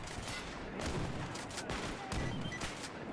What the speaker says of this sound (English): Oh, well, I'm getting shot at by someone else. Oh, now they're shooting at me.